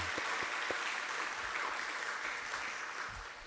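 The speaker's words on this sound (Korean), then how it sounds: "우리 격려와 축복의 박수 한번 하도록 하겠습니다" Applause from a church congregation at a Friday Holy Spirit service, a dense steady wash of clapping held at an even level throughout, with a few low thumps near the start.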